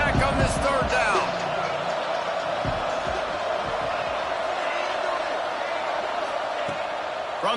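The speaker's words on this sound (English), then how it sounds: "Guns up, and so is the noise. The crowd electric, trying to help Tech on this third down." A college football stadium crowd roars loudly on a third down, a broad sustained din with sharp whoops and thuds at first that settles into a steady crowd rumble, with a commentator talking over it.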